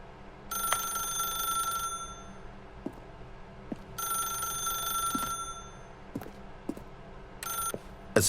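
A telephone rings in the video game The Stanley Parable: Ultra Deluxe, a bright electronic trill in repeated bursts with pauses between them, along with faint clicks and no speech.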